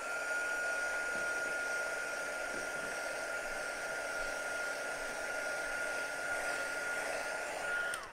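A hair dryer runs steadily and alone, its motor whine and airflow hiss constant throughout as it dries wet paint on a crackle-finish clock.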